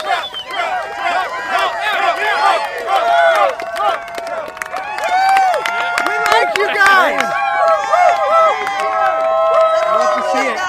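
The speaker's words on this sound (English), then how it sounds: "We're hearing almost as many RSBN chants as we are Trump." Crowd chanting and cheering at a large Trump rally in Wellington, Ohio; dense rhythmic voices with whistles and shouts, someone talking close over the crowd.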